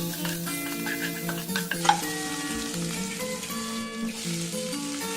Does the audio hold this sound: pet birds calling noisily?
no